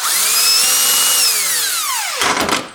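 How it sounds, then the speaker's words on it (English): An electric impact driver works a broken bolt loose from a deep recessed hole: a loud, high motor whine holds steady, then winds down and gives way to a short, rough burst of rattling impacts at the end. "I take my electric impact driver and opening direction in here"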